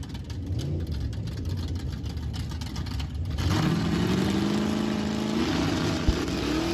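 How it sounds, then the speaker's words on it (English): A small-tire 1968 Camaro no-prep grudge race car idles roughly, then its engine revs hard to launch on the trans brake, a loud sustained roar rising in pitch and holding steady through the end. "3800 RPM launch on the trans brake"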